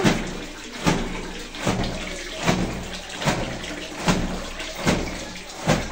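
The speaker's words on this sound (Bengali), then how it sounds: "আর এদিকে হচ্ছে যে আমার শাশুড়ি কাপড় চোপড় ধুয়ে নিতেছে" Water splashing and sloshing as clothes are washed by hand, in repeated rhythmic surges about once every 0.8 seconds, fairly close and steady with no talk.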